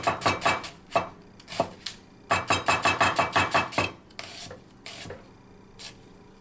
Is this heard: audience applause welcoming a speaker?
no